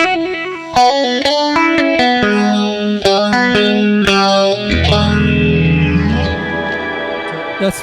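An electric guitar plays a quick melodic run, then a strummed chord, all with a sweeping, swirling phaser effect from a Strymon pedal, clear and close.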